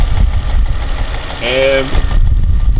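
A Jaguar S-Type engine idles with a steady low rumble, and a short whining, tonal noise rises out of it midway before fading back into the idle; the noise is louder on a cold start.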